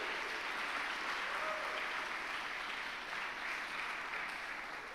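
A church congregation at a Sunday morning communion service fills the sanctuary with sustained applause, a dense even wash of many hands clapping that sounds slightly distant and holds steady throughout.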